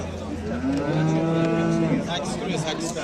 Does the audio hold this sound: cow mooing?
yes